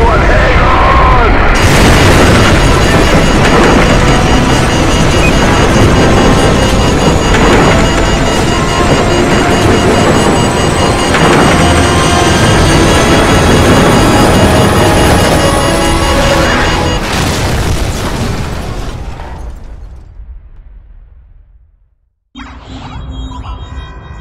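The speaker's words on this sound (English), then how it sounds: "What appears to be an explosion in epic proportions." A huge, sustained explosion roar in Call of Duty 4: Modern Warfare, loud and dense for about twenty seconds with rumbling debris and a rising whine, fading out before a short quieter tail.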